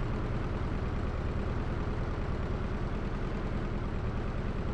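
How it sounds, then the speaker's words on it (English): Tractor engine in the BeamNG.drive driving game, a steady low rumbling idle with a pulsing diesel-like drone, constant and unchanging, with no talk. "Tractor sounds, that's all there is in here"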